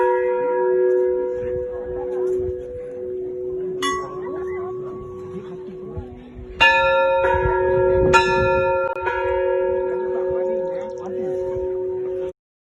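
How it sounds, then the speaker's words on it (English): A summit bell on Adam's Peak is struck several times, each loud clang ringing out with long sustained overtones. The strikes come at irregular intervals, and people talk and murmur throughout. "you're supposed to ring the bell one time for every time that you've reached the summit"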